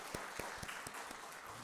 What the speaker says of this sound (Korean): 하나님께 영광의 박수 함께 올려드리도록 하겠습니다.